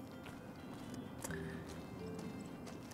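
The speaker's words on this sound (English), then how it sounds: "Am I just very uncultured to not realize that there is a horse in this game?" Soft horse hooves clip-clop in Fallout New Vegas: a few quiet, uneven thuds in the game's background ambience, with no talking.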